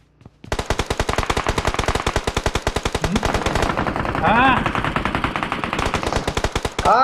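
PUBG Mobile gunfire: a loud, rapid automatic burst of evenly spaced shots, dozens of cracks in quick succession lasting several seconds, with a brief voice cutting in partway through and again at the end.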